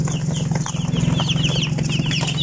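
A crowd of day-old chicks chirps nonstop in a brooder, dense high overlapping peeps close by over a low steady hum, with no voices.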